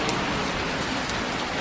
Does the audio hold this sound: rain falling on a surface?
yes